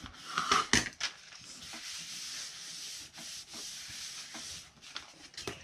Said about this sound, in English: now I'll take my big old spatula and just smooth out